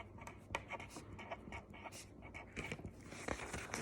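Pen or pencil writing on paper during an algebra lesson, faint close scratchy strokes in short uneven bursts, a soft continuous scribbling.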